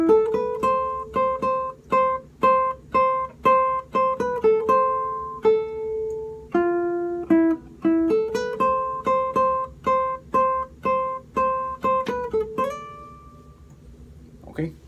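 Guitar playing a melodic phrase, a steady string of plucked single notes with a repeating rhythmic pattern, clear and close, ending on a held note that fades out.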